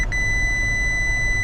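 Multimeter continuity tester beeping while a fuse is checked: two quick blips, then a steady, high electronic tone that holds unbroken and fairly loud for the rest of the moment.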